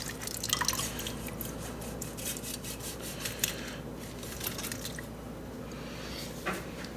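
CBD oil drips and squishes through a micron filter bag, soft close wet pattering with occasional rubbing and faint scraping, quiet and steady with no voices.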